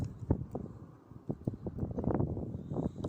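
Strong gusty wind buffets the microphone during a night of fishing from a harbour with no shelter, a steady low roar with louder gusts throughout.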